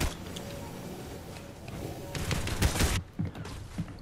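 A shotgun fires in a video game amid rapid gunfire bursts, loud and close, with a voice talking over the shots.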